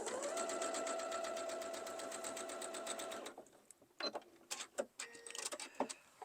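A sewing machine stitches a quilt block in a fast, steady mechanical rattle for about three seconds, then stops, followed by a few short clicks and handling noises up close.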